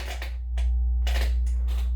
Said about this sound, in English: we're doing a frequency sweep starting at 60 hertz